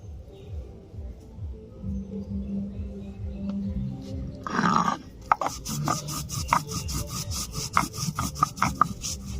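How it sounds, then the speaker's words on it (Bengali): Cumin seeds are ground by hand on a grinding stone, a close rhythmic rasping and rubbing of stone on stone that grows sharper and more gritty in repeated strokes after a brief pause. "এখন জিরে বেটে নিচ্ছি।"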